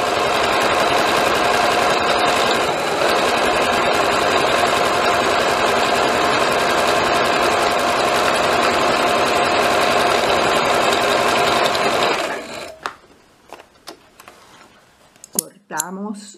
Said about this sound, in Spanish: Ahora vamos a filetearla porque es la forma más fácil de coser una camisa, de pegar una manga y pegar el lado.